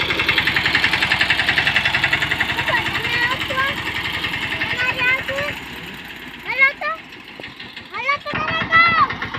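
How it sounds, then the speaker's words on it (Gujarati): A tractor engine idles low and steady with a rhythmic chugging throughout, while voices chatter over it toward the end. "હવે આપણે આ ટ્રેક્ટર આવી ગયું છે"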